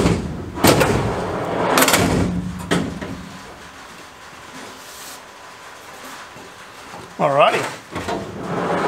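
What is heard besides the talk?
XTM 4WD drawer sliding in and out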